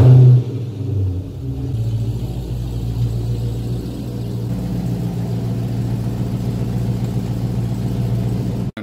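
A car engine idles and rumbles steadily up close while the driver parallel parks, a low continuous drone with slight revving and no talk over it.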